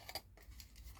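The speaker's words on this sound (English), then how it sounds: "So what I like to do is cut either side of the scored line and then just sort of wedge each side of it" Scissors snip through scored cardstock in two quick bursts, crisp and close, followed by quieter rustling as the paper is handled while making a treat box.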